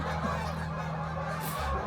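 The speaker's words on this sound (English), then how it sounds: "That's gotta be about 500 geese in there." A huge flock of roughly 500 geese passes overhead, their honking blending into a dense, continuous wash of calls at steady loudness, with no talk.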